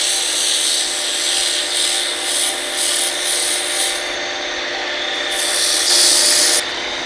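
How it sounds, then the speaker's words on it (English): A strip of sandpaper is rubbed by hand against wood turning on a lathe, a steady close hiss that swells and eases in rhythmic strokes, with no talking. "You can sand with a strip of paper just like this, or you can power sand as I did on the base"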